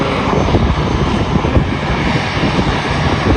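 Aircraft engines roar steadily and loudly at close range beside the Manchester Airport runway as a plane lands, a broad continuous rumble with no voices.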